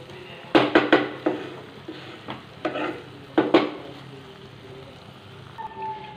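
Chicken goes into a pan of fried onions and green chillies over a low flame, producing a cluster of loud clattering scrapes and stirring knocks over a soft sizzle that then settles.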